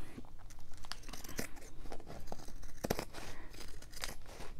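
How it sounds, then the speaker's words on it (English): Fabric scissors snip through craft fabric for a journal cover, producing steady crisp cutting and rustling close up, with a few sharper snips and crinkling material throughout, no speech. "I think I'll use my material scissors because they work better."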